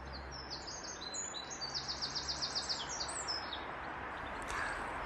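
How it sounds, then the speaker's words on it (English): A wren, Britain's tiny second-smallest bird, delivers a loud, rapid trilling song in short repeated bursts over a steady outdoor background hiss, the phrase rising to a brisk rattling run in the middle. "it's a very tiny and sweet little bird called the wren."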